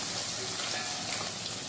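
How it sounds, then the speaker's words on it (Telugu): Ginger paste frying in a pan, a dense continuous hiss and crackle like light rain, steady and close throughout. "అల్లం పేస్ట్ ఫ్రై అయిపోయింది."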